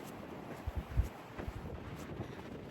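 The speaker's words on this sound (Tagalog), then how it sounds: "Sarap ng hangin." Wind buffets the microphone in low rumbling gusts at sand caves after a hike, with a few stronger thumps near the start and a soft steady hiss underneath.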